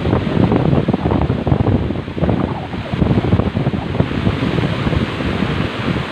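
Strong wind during Typhoon Agaton roars continuously into an outdoor microphone, a dense, steady buffeting rush with gusty surges and no voices.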